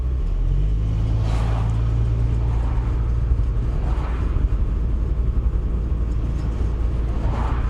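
An old, unroadworthy Mercedes W124 car with no MOT produces a steady, heavy low engine rumble close by, holding at an even level throughout with no other sounds.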